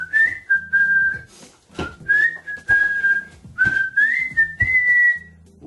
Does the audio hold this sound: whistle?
yes